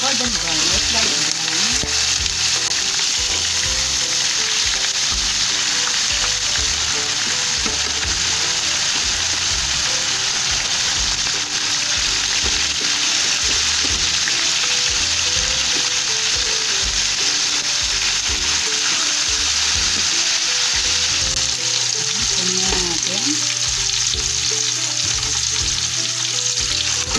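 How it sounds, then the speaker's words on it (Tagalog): Marinated pork sizzles steadily in hot oil in a pan, frying toward golden brown as a dense, continuous crackle with occasional stirring and faint background talk. "Sa same pan, ready na natin prituhin ang ating binabad na fried natin siya until golden brown, light brown"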